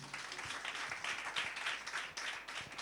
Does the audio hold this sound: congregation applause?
yes